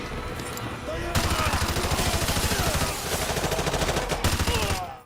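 Dense, rapid bursts of automatic gunfire in a video game, loud, chaotic shooting continuing throughout, sharp and overwhelming, with faint voices underneath.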